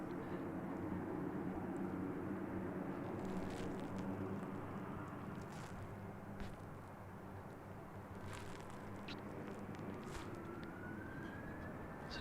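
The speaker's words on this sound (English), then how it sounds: "So I believe this is one of two Beach King Airs that they've got" A Beechcraft King Air turboprop at Christchurch Airport, New Zealand, gives a steady droning engine hum with a tonal whine, moderately distant and continuous, and a rising whistle near the end.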